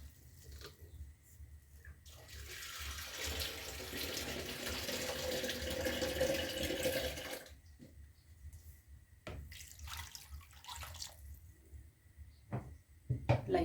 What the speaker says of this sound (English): Add enough water till all are submerged.